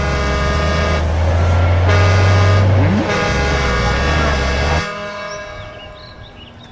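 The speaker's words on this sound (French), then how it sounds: "voilà des bus." Buses pulling up in the Inazuma Eleven 7 anime: a loud, steady engine rumble with a low droning hum runs for about five seconds, then cuts off and fades into quieter background.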